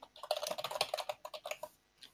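Rapid clacking keystrokes on a computer keyboard, close and crisp, in an irregular burst of typing that slows and stops near the end, with a final lone tap.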